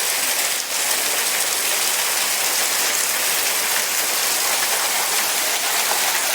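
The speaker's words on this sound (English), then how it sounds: "And the heavy rain coming with it too." Heavy storm rain pours down outside Kingman, Arizona, during a flash flood, a steady, dense, loud roar of downpour that holds without pause, with no voices heard.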